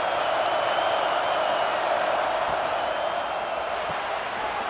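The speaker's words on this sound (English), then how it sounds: "This crowd knows when to bring it." Steady roar of a stadium crowd at a college football game, broad and sustained with no distinct peaks, and commentators faintly heard over it.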